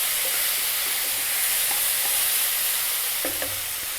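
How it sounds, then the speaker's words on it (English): Mushrooms frying in a hot pan and releasing their liquid, giving off a loud, steady sizzle and hiss with a few faint clinks near the end. No one speaks. "it's started to get a bit noisier because the mushrooms are releasing"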